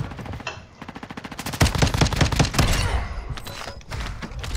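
Rapid automatic gunfire in a shooter video game, rattling bursts of closely spaced shots, loud and near, with brief pauses between volleys and no voices over them.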